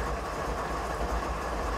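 A freight train rolls downhill through Canadian mountain passes in Train Simulator 2015, giving a steady low rumble with faint rail clatter, constant and even throughout without talk.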